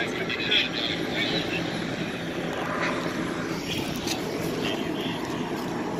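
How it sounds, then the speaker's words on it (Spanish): A helicopter flies over a huge fire in northeast Portland, its steady rotor and engine drone carrying on through the whole stretch while people talk nearby. "Ahí está el helicóptero, ¿ves?"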